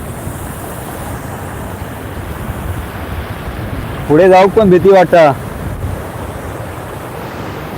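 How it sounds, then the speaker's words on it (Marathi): Continuous roar of big, high sea waves and wind on the Konkan coast, loud and steady, with a person speaking briefly partway through. "खूप मोठे मोठे लाटा येतात उंच उंच लाटा येतात"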